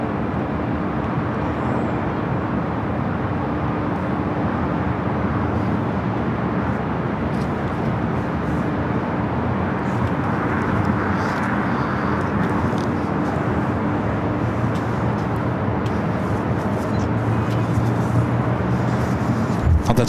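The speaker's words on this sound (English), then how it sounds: "Atlas Air flight 8759, headed to Whidbey Island, 747-400 freighter" An Atlas Air Boeing 747-400 freighter takes off from the south side of LAX, a continuous distant jet rumble and hiss that swells slightly midway and stays fairly steady for the whole stretch.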